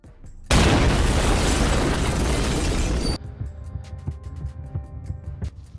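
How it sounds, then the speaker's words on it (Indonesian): A loud, close explosion blasts as a gang headquarters is blown up in a film, a dense roaring burst lasting nearly three seconds before cutting off to a quieter rumble with scattered debris clatter. "Han pun pergi dan meledakkan markas Bong-sik"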